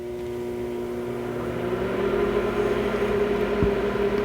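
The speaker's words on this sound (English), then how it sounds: "I'll start the microwave for 10 seconds." A microwave oven in an RV, powered by a Growatt system, runs with a steady low electrical hum and droning tones, growing slightly louder partway through, with a single faint click near the end.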